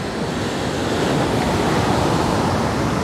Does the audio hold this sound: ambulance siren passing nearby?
no